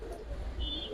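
A pigeon, a coloured Giribaz or Afsan Bagha fancy breed, gives a brief low coo close by with a faint background tone and no speech.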